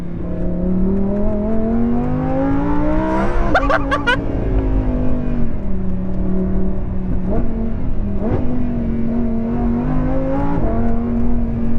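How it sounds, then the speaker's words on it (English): Lamborghini Huracan LP580-2 V10 engine blips and revs sharply on a series of quick downshifts, loud and close, with rising and falling engine tones throughout and no talking. "Oh, those downshifts."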